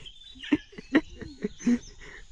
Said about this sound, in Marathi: आवाज बघा पक्ष्यांचे वातावरण आधी मस्त असतं